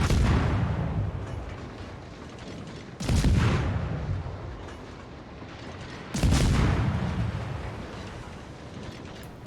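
Heavy naval gun salvos in the World of Warships video game, three deep booming broadside blasts at roughly three-second intervals, each decaying with a long rumbling tail, loud and with no talk over them.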